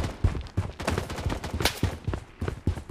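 Gunfire in the mobile shooter BloodStrike crackles in quick, irregular bursts of close, punchy shots, several in a row at an uneven rhythm, loud in the foreground with little talk.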